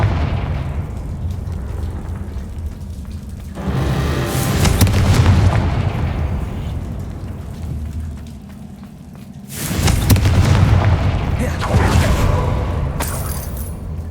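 Confringo explosive spells go off in Hogwarts Legacy as two separate heavy booms, each a sudden loud blast followed by a rolling, rumbling decay, with quieter ambience between and after them.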